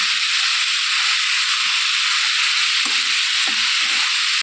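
Onion curry sizzles steadily in a pan while being stirred, a constant loud frying hiss with a few soft scraping knocks of the spoon toward the end.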